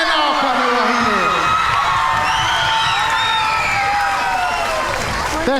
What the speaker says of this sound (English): one more time, round of applause for and our mo'i wahine